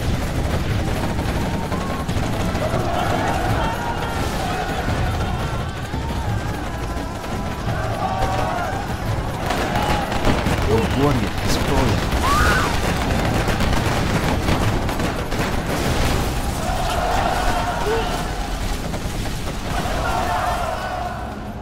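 Quad cannon gunfire in the Command & Conquer Generals video game rattles continuously amid dense battle noise, with steady bursts of rapid shots and explosions throughout.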